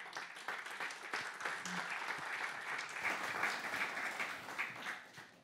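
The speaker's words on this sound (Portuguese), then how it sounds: "Jaime Quezado, um aplauso, por favor." Audience at a Portuguese conference session applauding a speaker, steady dense clapping from a moderate distance that holds for several seconds before tapering slightly at the end.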